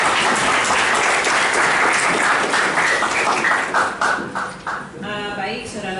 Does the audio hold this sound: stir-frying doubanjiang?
no